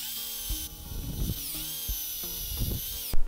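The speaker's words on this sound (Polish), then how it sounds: "Teraz będziemy przewiercać ten pałąk, żeby przez to przepuścić wszystkie kable, które będą lecieć od lampki." Long drill bit boring through a lamp bracket to make a cable passage, a high whining power-drill motor running continuously with shifting pitch and repeated low thumps as the bit bites, ending in a sharp burst.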